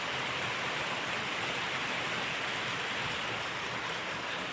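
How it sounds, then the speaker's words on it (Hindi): Rain falling in a village over fields, a steady soft hiss of dense drops with no pauses, fairly quiet and even, no voices. "सुंदर सुंदर बारिश हो रही है"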